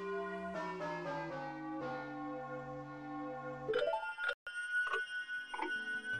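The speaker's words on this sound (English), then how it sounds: "the city awakes to the bells of Notre Dame" Morning bells of Clock Town in Majora's Mask ring out as a run of clear, sustained chimes that step down in pitch, followed by a few sharper, brighter strikes near the end, with no voices.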